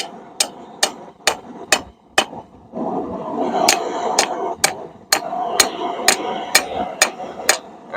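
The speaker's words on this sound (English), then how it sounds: "Now my hammer strikes are pretty crappy." Repeated hammer blows on hot steel while forging the point of a fire pit poker: sharp, ringing metallic strikes about every half second, some irregular, with a steady roaring hiss of a forge fire beneath.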